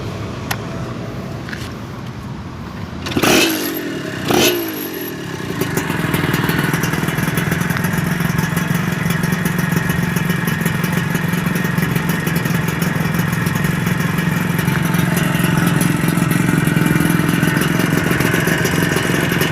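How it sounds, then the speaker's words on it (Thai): A freshly assembled and tuned Honda Nova Tena motorcycle fitted with a VR piston starts with a couple of sharp thumps, then runs loud and close at a steady, rough idle for a long stretch. "เสียงเครื่องจะดังหน่อยนะ"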